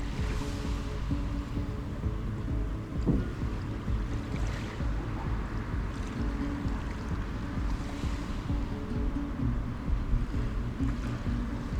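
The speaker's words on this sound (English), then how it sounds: "I loved listening to the waves while I was doing this." Ocean waves wash onto a beach at Naha, Japan, a soft, steady surf rolling in continuously at a distance with a faint breeze and no voices.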